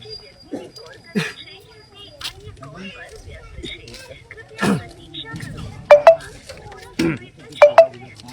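A phone call to an official is dialed from a roadside spot, and a few short electronic tones and beeps stand out amid nearby talk and faint background voices.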